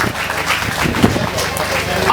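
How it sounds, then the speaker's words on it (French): Crowd applause at an outdoor square-naming ceremony during the 2024 Nonvizan Sèhomi festivities, a steady dense patter of clapping lasting the whole moment, mixed with voices talking over it. "Et je demande de l'applaudir"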